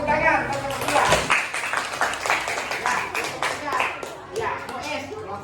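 A classroom of children claps for a group presentation on religious tolerance, close, dense clapping mixed with kids' voices and chatter, fading slightly near the end.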